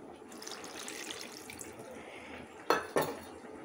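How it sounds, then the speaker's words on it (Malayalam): Water is poured into a cooking pot of marinated pork set on the stove, a soft steady splashing hiss with two sharper clinks of the pot near the end, close and moderately loud. "അപ്പോൾ അതിലേക്ക് കുറച്ച് വെള്ളം ഞാൻ ഒഴിക്കുകയാണ്."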